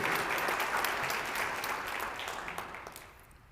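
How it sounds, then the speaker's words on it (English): A room of people claps in a round of applause, strong at first and thinning out, trailing off toward quiet by the end. "let's give the citizens of Lamarck a round of applause"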